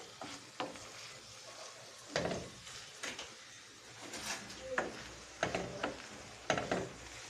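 Ackee tumbles into a hot cooking pan and is stirred around, giving a soft continuous sizzle broken by scraping and clattering strokes of the spoon against the pan at irregular intervals.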